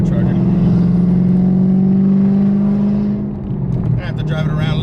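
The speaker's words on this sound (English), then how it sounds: "Let's roll the windows down, catch a little bit of that supercharger." A supercharged Dodge Hellcat making over 900 wheel horsepower drives with its windows down, a loud steady low engine drone that dips briefly, with voices talking over it.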